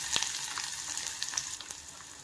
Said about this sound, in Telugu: ఆనియన్స్, పచ్చిమిర్చి వేసుకోవాలి. ఇవి బాగా ఫ్రై అవ్వాలండి.